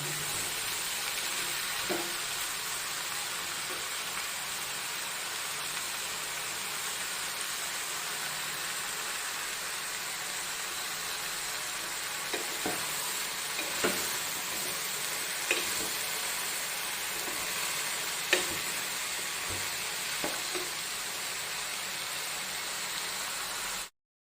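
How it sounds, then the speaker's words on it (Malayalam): Avial vegetables sauté in a pan with a steady, even sizzle throughout, broken by occasional soft taps and scrapes of a stirring spoon, close and moderately loud with no talking. "ഒന്ന് അവിയലിൻ്റെ ഇതൊന്ന് നമുക്ക് ഒന്ന് ഇളക്കി ഇതൊന്ന് വഴന്ന് വരണം"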